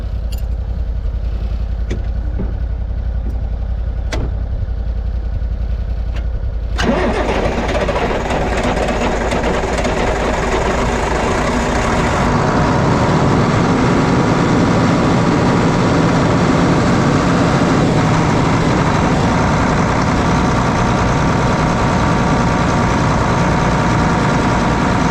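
An engine that has just been refueled after running dry turns over and catches at about 7 seconds, then settles into a steady, loud idle with a deep rumble that grows fuller and continues to the end.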